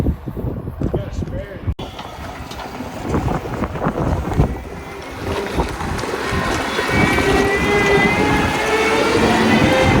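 Strong wind buffets the microphone with a rough, continuous roar, while a voice speaks briefly near the start.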